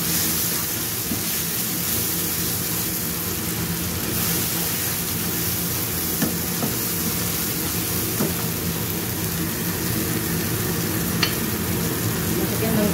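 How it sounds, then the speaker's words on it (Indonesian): Blended spice paste with galangal, lemongrass, bay leaves and lime leaves sautéing in a pan for a spicy goat rica-rica, a steady close sizzle and frying hiss running throughout with occasional stirring clinks. "Kita tumis bumbu yang sudah di blender."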